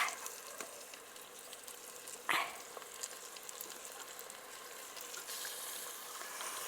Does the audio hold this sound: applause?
no